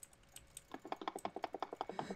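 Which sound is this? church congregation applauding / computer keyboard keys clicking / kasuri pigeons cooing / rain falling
computer keyboard keys clicking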